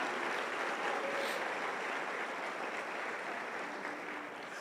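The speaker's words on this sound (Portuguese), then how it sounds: "Vamos aplaudir ao Senhor por isso" A church congregation applauding to praise the Lord during a sermon, a steady, continuous wash of many hands clapping at a distance, even and unbroken throughout.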